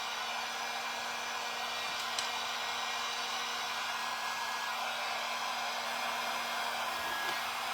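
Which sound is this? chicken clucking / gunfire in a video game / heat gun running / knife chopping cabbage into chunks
heat gun running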